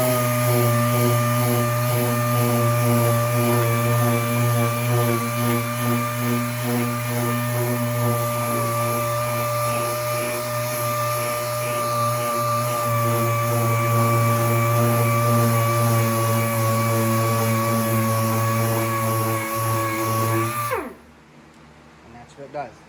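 A power sander works steadily over a 1977 Chevy Camaro passenger-side body panel with 220-grit paper, a loud continuous whine and hum running unbroken for about twenty seconds before cutting off abruptly.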